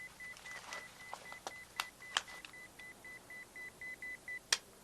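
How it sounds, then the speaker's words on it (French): A pager goes off with a run of short, evenly spaced electronic beeps, faint against a quiet room with a few soft knocks around it. "C'est un beeper."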